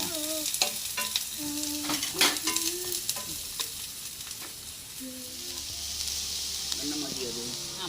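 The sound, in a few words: onions being stirred while frying for jackfruit masala bajji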